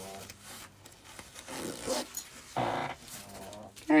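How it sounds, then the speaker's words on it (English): Zipper pull on a makeup zipper bag being slid aside while sewing at a machine, giving short soft metallic rasps and clicks, fairly quiet, with a few louder bursts amid light handling noise. "I need to move my zipper pull out of the way"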